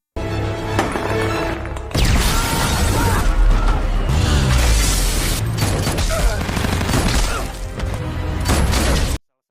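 Action-film gunfire with bullets flying: dense, loud bursts of shots, crashes and shattering debris layered over a driving soundtrack, sustained for several seconds before cutting off abruptly.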